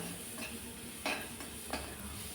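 Green chili, cumin, coriander and garlic paste with a little coconut sautéing in oil for a pitla, a soft steady sizzle with a few sharper scrapes of stirring against the pan, close and without talk.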